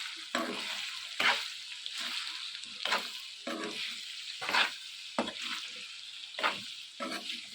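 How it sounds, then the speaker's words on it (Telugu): Chicken stirred with masala in a sizzling pan, with repeated scraping strokes at a steady rhythm over a continuous frying hiss, close and moderately loud. "ఇక్కడ చూపిస్తున్న విధంగా ఇదంతా బాగా మిక్స్ చేసుకోవాలి"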